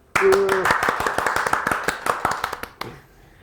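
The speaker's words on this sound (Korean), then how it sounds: "박수 한번 치고 그냥 시작하죠" A short burst of applause from a small group, quick dense clapping that tapers off after a few seconds, with a brief vocal sound at the start.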